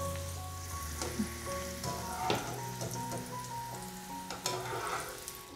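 Raisins fry in hot ghee with a close, crackling sizzle, broken by several sharper pops and taps from a utensil against the pan.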